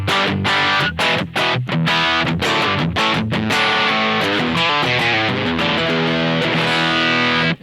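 Electric guitar, a PRS SE David Grissom, through a Nobels ODR-1 overdrive pedal, plays a steady stream of gritty, sustained chords, loud and continuous with a few brief rhythmic breaks early on.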